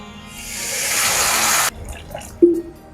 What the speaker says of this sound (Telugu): ఇప్పుడు కొన్ని వాటర్ పోయాలి